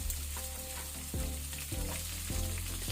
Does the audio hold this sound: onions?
yes